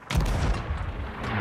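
A ship's cannon fires in the pirate video game Sea of Thieves: one loud, close boom that rumbles on and fades slowly, with no talking.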